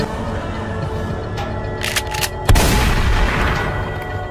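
A single sharp gunshot, a headshot, cracks out loudly midway through steady background game noise, followed by a brief lingering echo.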